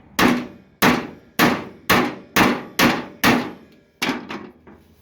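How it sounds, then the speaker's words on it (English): Seven sharp metallic hammer blows on the sheet metal bed of a 1937 Dodge truck ring out in an even rhythm, each clang decaying quickly, followed by a few lighter, quicker taps at the end. "Looks like I need to hammer it right in here somewhere."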